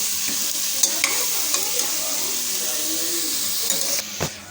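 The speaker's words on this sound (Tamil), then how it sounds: "அதை வந்து உள்ளே சேர்த்துடலாம்" A spoon stirs chopped cucumber into sautéed tomatoes in a pan for a dal, with steady hissing sizzle and soft repeated scrapes and clinks close by.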